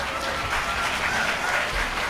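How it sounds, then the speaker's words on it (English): Brief, dense clapping from an audience at a children's talent day at a culture camp, even and sustained without pause. "Please encourage them with claps."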